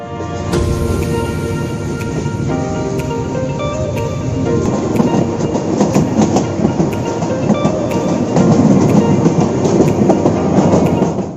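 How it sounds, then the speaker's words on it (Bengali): A train rolls along the tracks on the way to Sylhet, Bangladesh, with a loud, continuous rumble and rhythmic clatter of wheels, growing slightly heavier toward the end. "এদিক দিয়ে ট্রেন কিছুক্ষণ চলার পর আবার আরেকটি স্টেশনে এসে দাঁড়িয়ে আছে"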